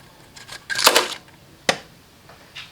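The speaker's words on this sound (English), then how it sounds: "that was the sound of my camshaft spinning over a little bit" Golf R camshaft spinning over slightly during a timing chain replacement with the engine out: a brief metallic clatter and rattle, followed by a sharp click and a faint tick, close in a quiet workshop.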